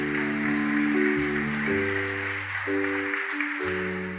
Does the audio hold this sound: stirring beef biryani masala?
no